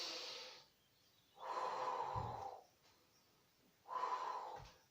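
Two slow, close breaths are heard during a Pilates exercise, each a soft airy breath in followed by a longer, audible exhale, separated by quiet pauses.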